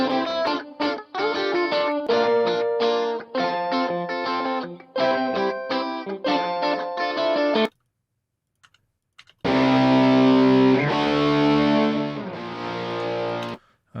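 Dense, harmonically rich distorted electric guitar playing in choppy bursts, a short silence, then a sustained heavier distorted passage, loud and close.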